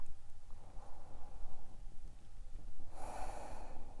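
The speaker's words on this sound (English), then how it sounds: "Last breath." A deep breath during a forearm stand yoga drill, a soft, close breathing sound, with a strong rushing exhale near the end, and no talking.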